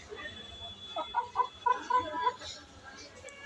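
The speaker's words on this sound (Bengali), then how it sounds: "অনেক সুন্দর মোরগ" Hill roosters at a market cluck nearby in a short run of calls, a string of four or five clucks over steady low background noise.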